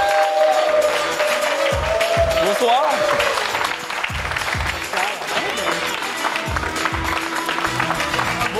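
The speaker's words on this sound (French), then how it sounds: "Mesdames, messieurs, un torrent d'applaudissements" A TV studio audience applauds continuously and loudly on a French talk show while a host and guest speak over it.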